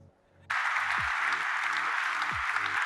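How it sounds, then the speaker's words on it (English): A live audience at a talk bursts into sustained applause and cheering after a brief near-silent pause, the clapping dense and steady throughout. "I don't know why you're cheering."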